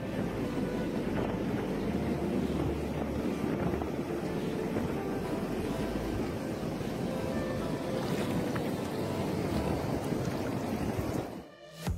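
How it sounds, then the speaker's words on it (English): Ocean waves and strong wind roar steadily together in a broad, continuous wash of noise with heavy wind buffeting, cutting off abruptly at the very end. "Who else could spend a whole day just admiring the movements of the waves?"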